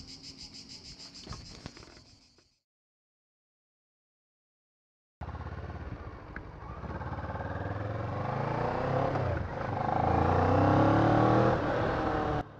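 A motorcycle engine running, first as a faint buzzy idle, then after a short silence a loud, close engine that revs up and holds a rising, throaty drone for several seconds.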